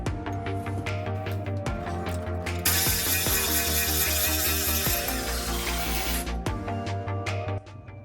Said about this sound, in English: I just removed the last few bolts of that